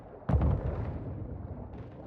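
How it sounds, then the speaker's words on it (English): A single heavy shot or blast from enemy bots in Call of Duty DMZ, booming up close and then rolling off into a long, muddy echo. "These bots are still shooting at me."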